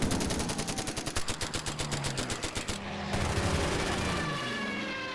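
Rapid machine-gun bursts fire at German Stuka dive bombers in the Order of Battle: Battle of Britain strategy game, a steady stream of clattering shots that stops partway, then gives way to a lower rumbling aircraft drone.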